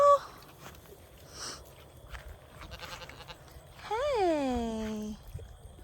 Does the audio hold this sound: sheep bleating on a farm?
yes